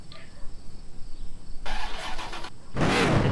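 Car engine starting in a car showroom video game: a short cranking burst, a brief pause, then the engine catching with a loud rising roar over faint background music.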